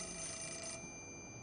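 Telephone ringing inside the survival horror video game Fatal Frame IV: Mask of the Lunar Eclipse, a steady electronic ring tone heard clearly and continuously for a moment, with no talking over it.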